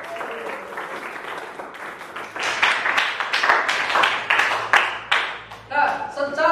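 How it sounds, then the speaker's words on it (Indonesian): A school class claps together, a ragged burst of applause that rises and continues for several seconds while voices talk over it. "Tepuk tangan dulu semuanya."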